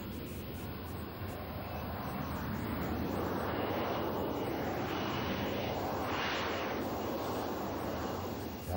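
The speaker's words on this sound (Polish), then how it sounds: "Kiedy dysze skierowane są w dół, Harrier leci w górę." A Royal Air Force Harrier jump jet comes in to land, its jet engine roaring loudly and continuously, the whine swelling and sweeping in pitch as the nozzles and thrust shift.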